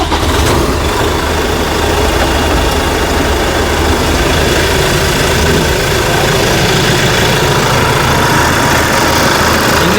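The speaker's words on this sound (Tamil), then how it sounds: "இந்த இன்ஜினை வந்து ஸ்டார்ட் பண்ணி காமிக்கிறேங்க" A New Holland Workmaster 105 tractor engine idles steadily and close by, a continuous low diesel rumble that holds for the whole stretch with no voices.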